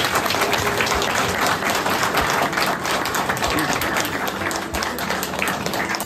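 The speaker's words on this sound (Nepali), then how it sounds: "ताली बजाइदिनुहोस्" A wedding ceremony crowd breaks into sustained applause, many hands clapping loudly and continuously with faint crowd murmur beneath.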